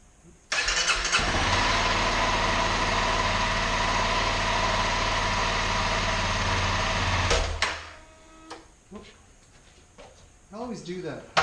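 A Honda CRF250L motorcycle engine runs loud and steady for about seven seconds during a clutch test, then cuts out, leaving quiet handling noises and brief talk.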